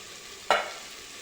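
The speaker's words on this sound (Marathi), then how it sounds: "आलं लसूण घातल्याच्या नंतर हे सर्व पुन्हा छान परतून घेऊ" Ginger, garlic and rice sautéed in a pan: a single sharp sizzling stir that flares up and quickly fades to a low background hiss.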